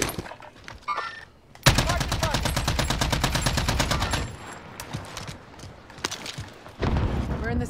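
Rapid automatic gunfire in the video game Call of Duty: Warzone, a long sustained burst of close, loud shots followed by scattered single shots and another burst, with voices talking over the fighting.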